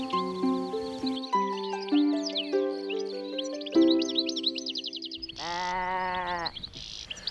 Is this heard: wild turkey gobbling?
no